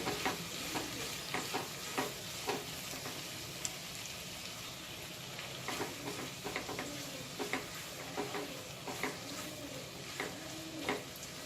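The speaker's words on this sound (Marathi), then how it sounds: "यामध्ये आता आपण मीठ घालून घेऊ। हे सर्व चांगलं मिश्रण परतून घ्यायचं आपल्याला" Pasta with salt stir-fried in a pan for veg red sauce pasta: a soft continuous sizzle broken by repeated spatula scrapes and taps, close but fairly quiet, with no talking.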